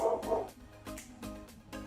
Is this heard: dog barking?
yes